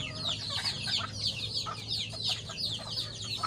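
Gamefowl roosters at a small chicken farm cluck in a steady stream of overlapping calls, close and moderately loud over a low background hum.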